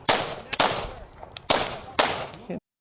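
Pistol shots on a USPSA practical shooting stage, four or five loud sharp cracks spaced unevenly about half a second apart, close and distinct, with a faint voice in the background.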